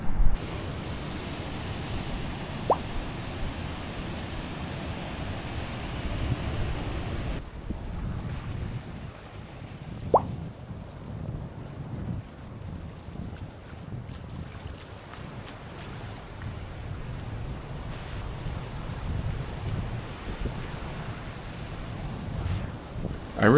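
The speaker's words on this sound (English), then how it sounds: "the waves come in all kinds of different directions" Ocean waves wash onto a Costa Rican beach in a soft, continuous rumble, mostly buried under gusty wind buffeting the microphone, with a few faint knocks and no clear talking.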